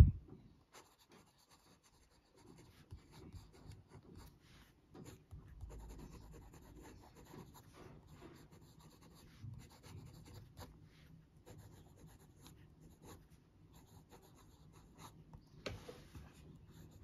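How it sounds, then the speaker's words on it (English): Nib of a PENBBS 491 fountain pen scratching and gliding across paper, a quiet close rasp of short strokes and pauses, steady and soft with no talking. "So let's do the writing sample"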